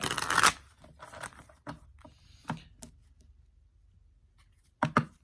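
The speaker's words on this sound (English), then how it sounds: "I'm just going to do a quick shuffle here, put these guys back together." Holographic Rider-Waite-Smith tarot cards being shuffled by hand, a burst of riffling followed by scattered soft taps and slides of cards, close and fairly quiet, with no talking.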